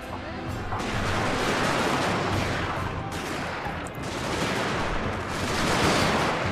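Dense gunfire crackles continuously through a Total War Shogun 2: Fall of the Samurai multiplayer battle, volleys of musket and rifle shots layering into a loud, sustained fusillade.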